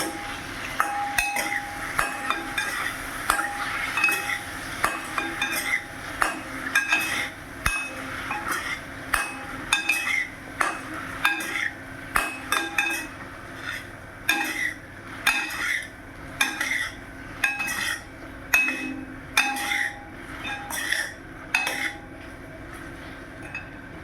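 A metal spoon scrapes and clanks against a pan while a ripe-mango dish is stirred and sautéed over a low gas flame, giving a steady run of sharp, close clinks and knocks with no voices.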